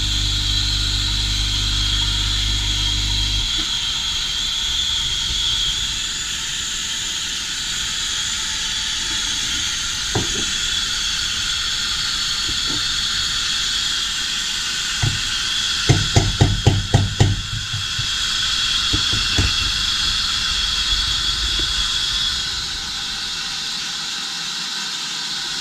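A Sage Oracle espresso machine's steam wand heats milk with a loud, continuous hiss. A brief run of rapid knocking comes midway, and the hiss then fades out near the end.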